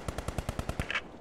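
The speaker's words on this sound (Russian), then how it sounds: "Север был пулемет. Севера были выстрелы." A machine gun in the Post Scriptum war game fires a rapid burst of about nine evenly spaced shots, fairly distant and alone, ending with a brief metallic ring.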